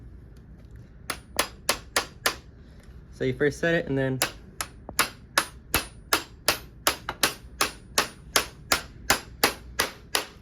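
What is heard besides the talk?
hammering pin into drill rifle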